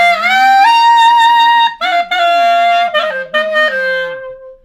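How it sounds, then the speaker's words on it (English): A clarinet played with a growl for jazz or klezmer styles, holding a bright, buzzy sustained tone that moves across a few pitches and briefly breaks off near the two-second mark before trailing away. "Growling. It's a little less common on clarinet, but it works for some jazz, klezmer kind of things."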